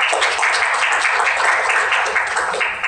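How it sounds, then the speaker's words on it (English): Dense audience applause at a tech conference talk, a steady wash of many hands clapping together at an even level for a few seconds, with no voices on top. "Thank you for your applause."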